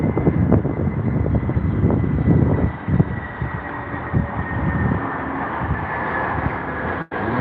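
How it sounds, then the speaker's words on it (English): An Airbus A320 comes in to land at Heathrow, a loud, gusty jet roar with wind buffeting the microphone and a brief dropout near the end. "Another little A320. Go on, lad. Plant it down nicely."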